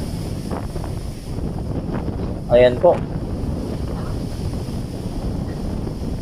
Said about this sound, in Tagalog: Lakas po ng mga alon po ng tubig dito at napakalakas ng mga hangin po